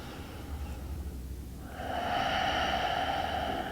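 A slow, full, deep breath taken during a yoga flow, an airy inhale drawn steadily and then a softer, rushing exhale, close and alone without talking.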